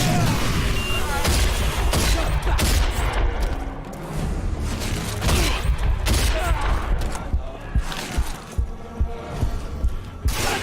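Rapid, loud gunfire from shotguns in the video game Rage, with dense overlapping blasts and booms filling the whole stretch under a busy game soundscape.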